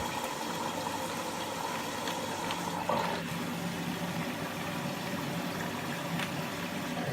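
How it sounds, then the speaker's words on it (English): A Beko WMB 81221 washing machine fills with water, giving a quiet, steady hiss and hum of inflowing water and pump throughout, with a single brief knock near the middle. "It will fill up the machine, and it will drain the machine."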